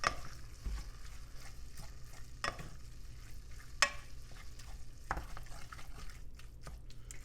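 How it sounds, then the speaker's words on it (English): Chili being stirred and broken up in a pot, with a low sizzle behind scattered scrapes and knocks of a utensil against the pot, close and moderately quiet, with no voices. "So get that stirred up well, break up any big chunks."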